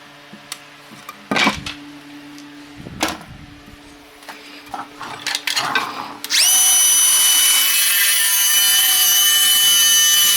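Wood for a planter box is handled with a few knocks and scrapes, then a power saw starts abruptly and whines loud and continuous to the end.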